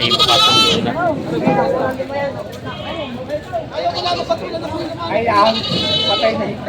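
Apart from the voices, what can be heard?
goats bleating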